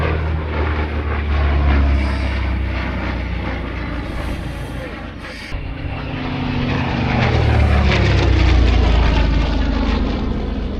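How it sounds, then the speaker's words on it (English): A propeller aircraft engine roars loudly and continuously, its pitch wavering as it passes close, swelling louder toward the end. "listen to the grunt on that engine"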